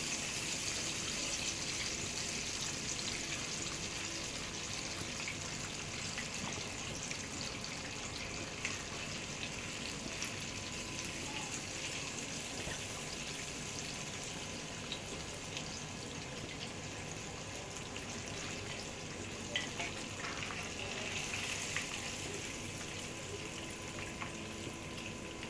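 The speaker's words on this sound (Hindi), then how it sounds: "चिकन फ्राई हो चुका है। अब हम इसे ऑयल से निकाल लेंगे।" Crispy chicken frying in oil, a continuous dense hiss and bubbling sizzle that stays loud and even throughout, with no voices.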